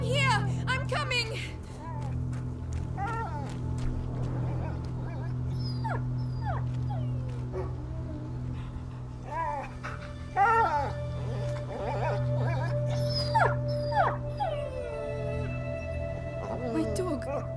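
Dog whimpering, yelping and howling in repeated rising cries over a steady low drone, with a person's voice talking between the calls.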